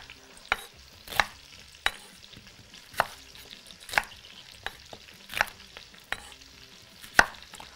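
Large-cut red or white onion pieces stirred and fried in a pan, heard as quiet intermittent scraping and tapping strokes at an irregular pace over a faint background sizzle, close up with no voices.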